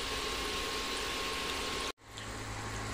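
Homemade fries frying in hot oil for their second cooking over a strong flame, a steady dense sizzle up close that cuts out briefly, then resumes as a slightly softer bubbling hiss.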